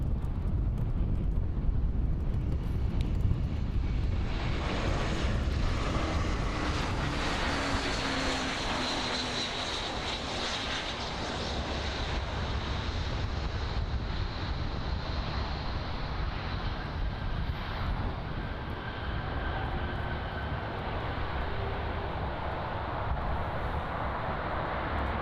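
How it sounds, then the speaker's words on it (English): An American Airlines Airbus A321 arriving from Dallas Fort Worth at Miami International Airport gives a continuous jet engine rumble with a whining tone. The noise is strong early and settles to a steady, slightly softer drone. "here on the screen is the American Airlines Airbus A321 arriving in from Dallas Fort Worth in Texas"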